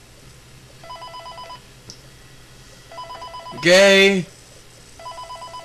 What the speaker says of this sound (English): You don't want to hear a creepy phone call.